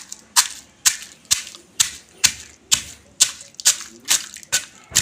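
Wood apple chutney pounded in a stone mortar with salt makes sharp, regular thuds, about ten evenly spaced blows, close and clear with quiet gaps between them.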